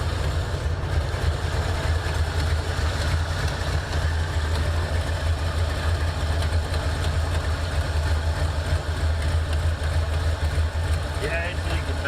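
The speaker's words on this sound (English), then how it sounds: "can hear it leak, definitely." A 1984 Foxbody engine idles with a leak, giving a steady, close, low rumble with a hissing edge that runs without a break throughout, while people talk over it.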